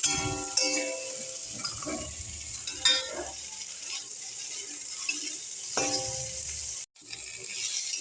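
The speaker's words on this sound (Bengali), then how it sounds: "দেখো অল্প ভেজেছি, এটা মোটামুটি ভাজা হয়ে গেছে" Whole garlic cloves and green chilies fry in a pan, giving a steady close sizzle with occasional stirring scrapes and clinks, with no talking.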